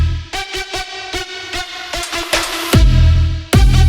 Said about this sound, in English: If you put an OTT after the reverb, it really makes it huge.